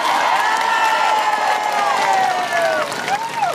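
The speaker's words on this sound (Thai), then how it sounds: "ขอเสียงปรบมือดังๆพี่น้องครับ" A large outdoor crowd at a Thai public gathering claps and cheers loudly and continuously for several seconds, with whistles and shouts rising over the dense applause.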